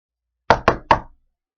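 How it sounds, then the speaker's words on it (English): Three quick, sharp knocks on wood, close and dry, evenly spaced within about half a second, with nothing else around them. "I even knocked on wood to make sure it doesn't happen that way."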